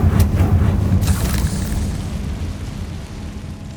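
A Confringo spell explodes in Hogwarts Legacy with a heavy low boom and burst right at the start, followed by a second crackling hit before the rumble slowly fades out.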